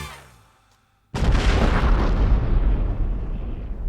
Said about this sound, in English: A bombshell.